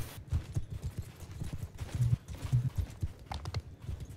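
Horses galloping across a battlefield in the Mount & Blade II: Bannerlord video game, a continuous rumble of hoofbeats with rapid clip-clop rhythm and a few brief higher clatters, moderately loud throughout.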